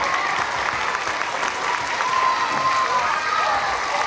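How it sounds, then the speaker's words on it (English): Steady applause from an audience at a children's activity event, a dense continuous patter of clapping lasting a few seconds, with voices mixed in. "Give him a round of applause."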